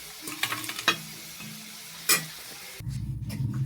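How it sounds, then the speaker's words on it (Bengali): Fried potatoes come out of hot oil with a faint bubbling sizzle, a few sharp clinks of a utensil against the pan, then a louder frying crackle near the end; no voices. "এখানে আমার আলুগুলো ভাজা হয়ে গেছে, আমি এবার তুলে নেব।"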